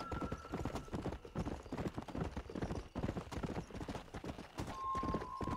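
Horse hooves gallop in the Western video game Red Dead Redemption, a rapid steady clip-clop rhythm running loud and close throughout, with a brief neigh-like tone near the start and again near the end.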